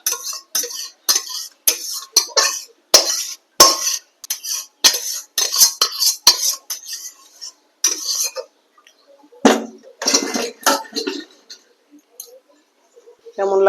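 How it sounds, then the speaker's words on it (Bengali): Spoon clinks and scrapes against a pan and bowl as pointed gourd curry cooked in milk is ladled out, giving a run of sharp, close, irregular taps with brief pauses and a soft voice near the end. "তরকারিটাকে আমি একটা পাত্রে বলের মধ্যে ঢেলে নেব।"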